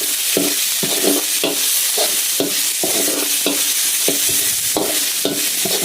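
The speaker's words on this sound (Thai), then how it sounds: "คั่วพริกให้หอมก่อน" Coarsely pounded chili and garlic stir-fry in a hot pan, a spatula scraping in a regular rhythm of about eight strokes over a continuous close sizzle, with no talking.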